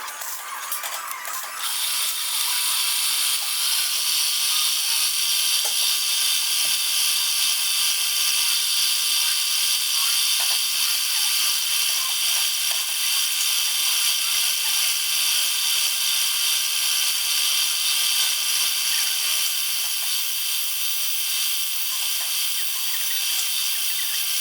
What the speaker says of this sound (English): I'm drilling a central hole